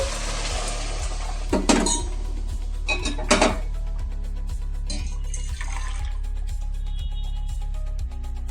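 Hot water splashes into a cooking pot for an egg and shrimp pulao, with two short pouring bursts and a later one, under a steady rhythmic mechanical hum and faint clinks.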